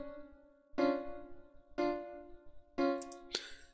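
Minor chords played one after another, four distinct sustained chords struck about a second apart, each ringing and decaying, fairly quiet and alone with no talking.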